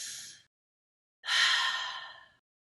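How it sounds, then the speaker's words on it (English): Two deep breaths taken in a quiet setting, a short exhale followed after a pause by a longer, fuller breath, close and clear with no talking. "We take some deep breaths."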